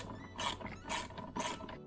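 A ratchet wrench snugs a 10 mm intake and throttle body bolt on a Toyota Camry, its pawl clicking in three quick bursts of rapid ratcheting, close and fairly quiet.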